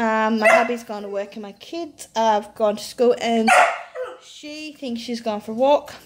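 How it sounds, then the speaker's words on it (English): A puppy yaps and whimpers in short high bursts in the background of a room, mixed under a woman's steady close-up talking throughout. "I do apologize for my puppy barking in the background."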